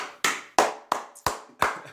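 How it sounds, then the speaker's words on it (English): Five loud, close hand claps spaced roughly a third of a second apart, each a sharp crack with a short ring, at an uncensored one-on-one interview, with no talking. "go clap it up just for that"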